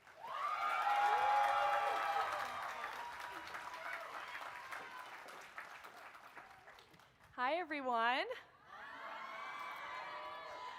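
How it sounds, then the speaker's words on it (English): A college commencement audience applauds and cheers, a broad wash of clapping and whoops that slowly fades, then a single voice speaks over the tail of the applause. "thank you so much for all the applause"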